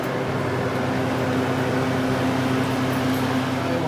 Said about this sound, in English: You'll turn on the mixing auger first, and then the freeze mode.